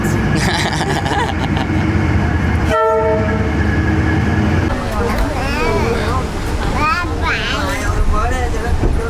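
Train arriving in Vietnam, its loud horn blasting once in a short burst over the steady clatter of rolling cars, followed by excited voices talking and calling over the continuing rumble.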